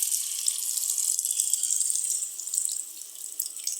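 Tamarind water poured into a pan of sautéed garlic for a Tamil garlic curry, a steady close rushing pour that runs continuously with no talk.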